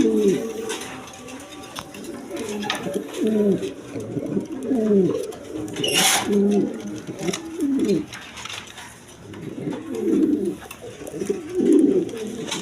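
Caged pigeons, kept in pairs with eggs and chicks, coo in repeated throaty bursts close by, while a person talks over them and there is occasional rustling.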